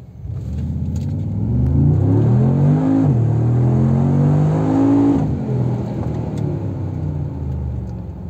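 Brabus-tuned Mercedes G800 G-Wagon accelerating hard, its engine note rising in clear sweeping revs with a brief dip and climb again, loud and close from inside the cabin, with no talking.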